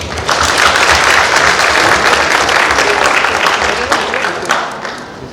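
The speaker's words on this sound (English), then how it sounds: "Please give a big applause for them." Audience at an international competition forum applauds the panelists, steady dense clapping filling the room for about five seconds before tapering slightly at the end.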